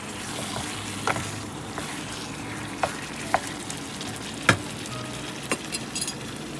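Chicken frying in a pan gives a steady, close sizzle, broken now and then by a few sharp crackles and pops.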